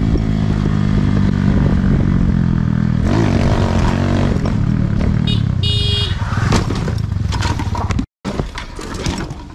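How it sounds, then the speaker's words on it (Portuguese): A motorcycle fitted with a new exhaust rides through traffic, its engine loud and close throughout, with brief horn-like tones and a sudden cut near the end. "Motociclista sai para testar seu escapamento novo."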